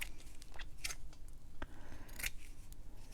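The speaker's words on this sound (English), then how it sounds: "I'm just going to cut a little piece here." Scissors snipping a small piece of lace trim at a craft desk, several crisp close cuts at irregular intervals with faint handling noise between them.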